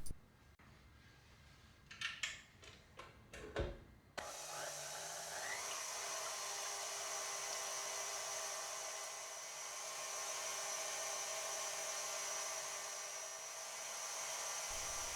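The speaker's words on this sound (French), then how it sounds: "Montez les blancs en neige à l'aide d'un robot ou d'un fouet électrique." Electric whisk whipping egg whites for a tiramisu-style Yule log, a steady continuous high-pitched motor whir that starts abruptly after a few seconds of quieter clatter and runs loud and unbroken to the end.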